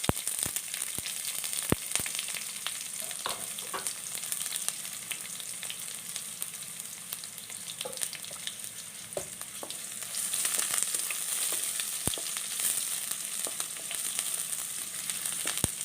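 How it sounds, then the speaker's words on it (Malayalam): Chopped onion sizzles steadily in a hot pan for a spinach dish, a continuous crackling fry with a few sharp clicks and taps scattered through, close and fairly quiet, with no voices. "ഇനി ഇതിലേക്ക് ഒരു ചെറിയ സവാള മുറിച്ചതാണ് അതും കൂടി ഇട്ട് കൊടുക്കുക സവാള നന്നായിട്ട് മൂത്ത് വരണം"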